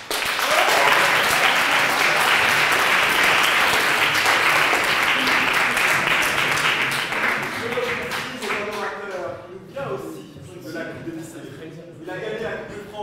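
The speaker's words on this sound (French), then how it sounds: "on applaudit Omran" Audience applause at the final of a French high school debate cup, loud dense clapping that fills the room for several seconds, then thins into scattered claps as voices start to speak.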